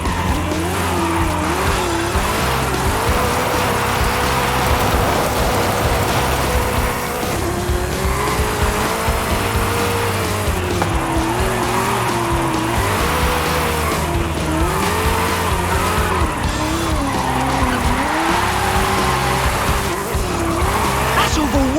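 A car drifts in Forza Horizon 5, driven on a Logitech G29 wheel, with loud continuous tyre squeal and a revving engine that rises and falls throughout.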